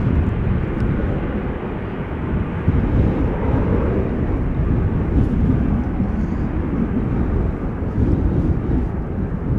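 KLM flight 1485, a jet climbing steeply after takeoff from Schiphol, makes a loud, continuous low rumbling roar with gusty wind buffeting and no talk.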